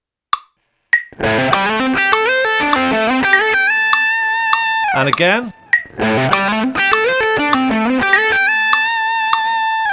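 Electric guitar plays a pentatonic lick in rapid 16th notes at 100 BPM with a distorted, effected tone, two bright busy runs split by a short bending phrase, loud and close; a brief spoken voice comes first.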